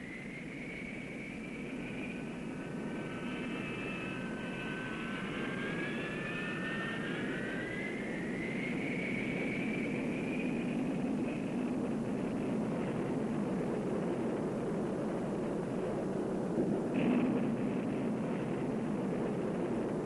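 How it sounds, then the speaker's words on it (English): A McDonnell-Douglas F-4B Phantom jet of a Marine fighter attack squadron taxis out for takeoff, a steady jet-engine roar with a high whine rising and sliding in pitch, heard from a distance without talk. "the F-4B of Marine Fighter Attack Squadron 115 taxis out for takeoff"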